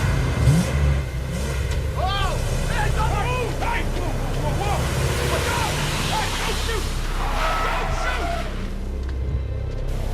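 Loud vehicle engine noise from a caravan in a film scene, mixed very forward, a steady rumbling drone throughout with chirping and shouting voices layered over it.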